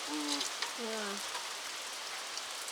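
Steady rain falls outdoors at an off-grid homestead, a dense continuous patter and hiss throughout, with a person briefly speaking over it near the start.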